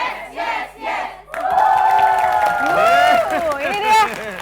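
Supporters of SMP Negeri 4 Palembang at a school quick-answer quiz contest chant in rhythmic bursts, then break into loud, sustained cheering and shouting from a close crowd.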